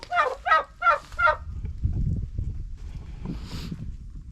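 Poultry in a pen give four loud honking calls close by, followed by quieter shuffling and soft bird sounds.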